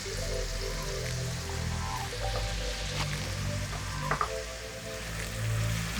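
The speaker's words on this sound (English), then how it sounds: "beef bacon is frying nicely" Beef bacon sizzles and crackles steadily in a pan, with a low hum underneath and occasional louder pops.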